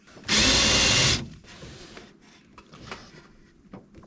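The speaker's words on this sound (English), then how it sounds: "Now I'm going to drill a hole here to put the wire through." A power drill bores a hole in an overland rack for a wire to pass through, one loud burst lasting under a second, followed by faint scraping and handling sounds.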